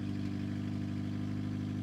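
A Toyota MR2 engine idles steadily, a low continuous rumble with an even pulsing throb, close by, with no other sounds.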